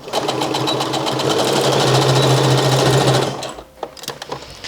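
A sewing machine runs a fast, steady burst of stitches through a shirred top's facing near the shoulder seam, loud and close, then stops and gives way to a few handling clatters.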